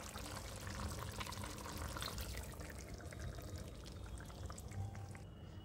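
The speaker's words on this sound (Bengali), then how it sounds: "তাই জন্য আমি একটু জল অ্যাড করছি।" Water pours steadily into a pot of Bengali chicken kosha, a continuous, even rushing splash close by with no talk over it.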